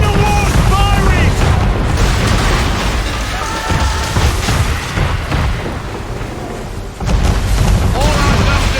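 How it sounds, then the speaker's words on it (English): Man-of-war ship cannons firing in Assassin's Creed III, loud rumbling booms and bursts layered in dense battle noise, with shouting voices heard briefly over the din. "Man of war's firing!"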